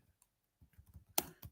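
Light typing on a computer keyboard gives a quiet run of soft key clicks, ending in two sharper taps, heard close in an otherwise still room.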